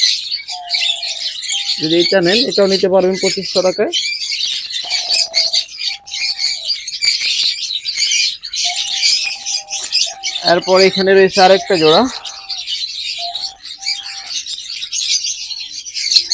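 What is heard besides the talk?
lovebirds chirping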